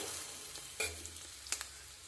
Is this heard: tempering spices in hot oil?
yes